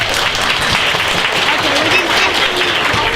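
An audience at a children's coding hackathon show-and-tell claps for a team, a short, loud, steady burst of applause with voices mixed in throughout.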